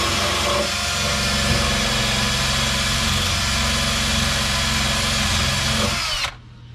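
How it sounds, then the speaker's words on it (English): A power drill bores out spot welds on a Triumph TR3 body panel, running steadily and loudly up close for about six seconds before it stops abruptly, leaving a faint background hum. "So I'm going to try drilling, I'll wire wheel those and try drilling those spot welds out."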